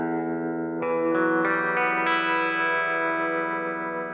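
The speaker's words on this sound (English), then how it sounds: "Let's listen to just the baritone guitar." A baritone guitar in an original song mix, panned left with stereo reverb, plays a rising run of sustained notes that stack into a bright ringing chord washed in effects.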